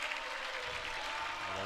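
A crowd cheers and applauds at the Red Bull Wololo Age of Empires tournament, a steady roaring wash that stays at an even level for the short moment with no break.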